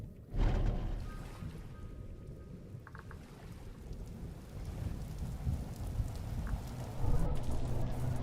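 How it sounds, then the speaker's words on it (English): Steady rain hisses through a storm in the survival game Vintage Story, with low rumbling swells of thunder rolling in near the start and again toward the end, no voices over it. "A medium tempo storm."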